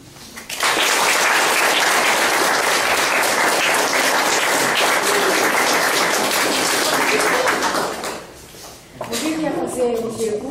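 An audience at a Portuguese-language spiritist lecture claps in sustained, dense applause for several seconds, then it fades and a voice speaks briefly at the end.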